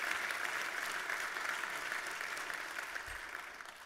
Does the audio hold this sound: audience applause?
yes